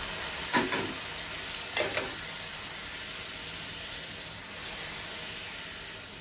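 Water is added to tengra fish frying with spinach, setting off a loud, continuous sizzling hiss with two sharp spattering bursts early on that settle into a steady boil-like fizz.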